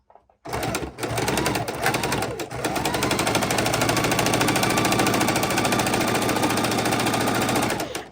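A sewing machine stitches a decorative seam around a fabric microwave potato bag, its rapid mechanical whirring running loud and continuous after a brief start and a short pause.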